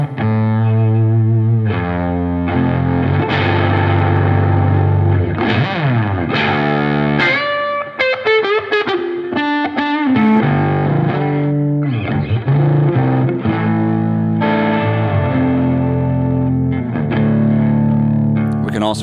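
Distorted electric guitar played through a drive pedal set to silicon diode clipping, chords and single-note lines ringing loud and continuous with a gritty, saturated edge and no talking.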